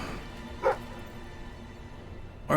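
The dog companion in Fable 3 gives two short, clear barks about two seconds apart over a quiet game-world background.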